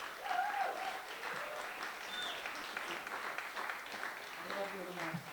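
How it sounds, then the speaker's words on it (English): A crowd at a public campaign rally to keep the port public in Lyttelton applauds steadily and loudly for several seconds, with cheers rising over the continuous clapping. "give yourselves a big round of applause"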